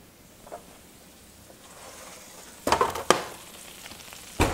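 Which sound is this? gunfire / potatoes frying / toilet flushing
potatoes frying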